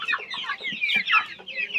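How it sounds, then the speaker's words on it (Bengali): Tiger breed chickens cluck in a short, close burst of repeated, uneven clucks and squawks from several birds, fairly loud, with no talking. "টাইগার মুরগি"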